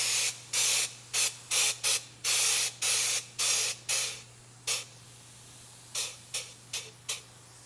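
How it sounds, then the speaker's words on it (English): Bursts of hissing spray from a powder coat spray gun aimed at preheated metal, roughly a dozen short blasts of varying length with brief gaps, close and loud over a steady low hum, with a longer pause partway through. "We're gonna go ahead and spray it."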